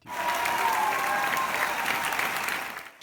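An audience at a Cannes film screening breaks into sustained applause as the film ends, a dense, even roar of clapping that holds steady before dropping away at the close.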